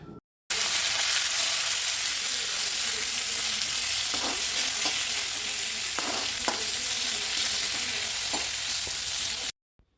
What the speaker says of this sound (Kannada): ಸ್ವಲ್ಪ ಚಿಕ್ಕ ಚಿಕ್ಕ ಚೂರುಗಳನ್ನು ಮಾಡ್ಕೊಬಿಟ್ರೆ ಬೇಗ ಫ್ರೈ ಆಗುತ್ತೆ ಅಲ್ವಾ